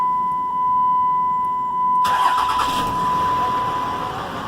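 A Ram Mega Cab pickup truck engine cranks and catches around midway, then settles into a steady rumbling idle, with a constant electronic beep tone running throughout.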